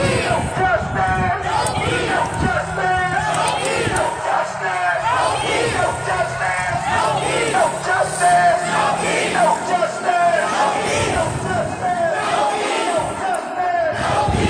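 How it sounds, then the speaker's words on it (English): A protest crowd in Milwaukee moves toward the steps, a continuous roar of overlapping voices, shouts and chanting close by, with someone speaking over the hubbub. "So the crowd's moving closer to the steps now."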